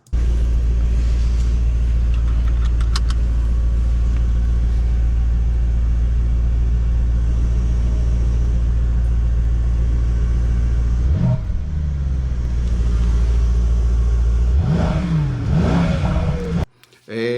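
A Mercedes-AMG GT 63 S E Performance engine drones at steady high revs in Sport Plus mode, then two sharp revving surges rise and fall near the end, loud and close.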